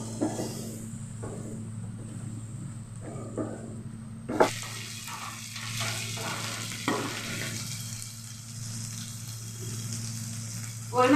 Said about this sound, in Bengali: এবারে মশলার সঙ্গে মিশিয়ে নেব, মিশিয়ে কিছুক্ষণ সময় জাল করে নেব।